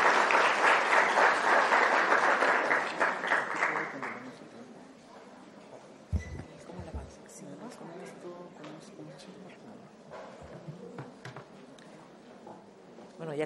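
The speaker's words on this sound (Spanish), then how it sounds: "Recibamos con un fuerte aplauso a la doctora María Fajardo" Loud, dense applause from a conference audience welcoming a doctor to the podium fills the first few seconds, then fades out. Room noise and a few scattered sounds follow.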